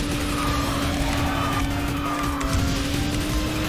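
Engine drone and tire squeal from a kart race in the KartRider video game, driving the HT-R kart, sustained and steady throughout with a constant motor tone.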